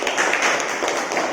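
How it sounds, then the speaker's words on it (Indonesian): Students clapping in an Indonesian classroom during a teaching lesson on elections, a short burst of close, steady hand claps filling the room with no talk over it. "Tepuk tangan dulu pada Julia."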